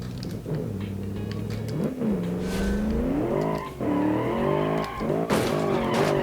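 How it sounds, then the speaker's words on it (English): A car in the racing game Automation doing a burnout in third gear at high revs, its engine note rising and falling over a continuous squeal of spinning, skidding tyres. "Let's see if it'll burn out in third."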